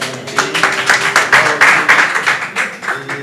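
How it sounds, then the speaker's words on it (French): A small group clapping together in a steady, loose rhythm, fairly close and lively, with faint voices mixed in. "On peut applaudir."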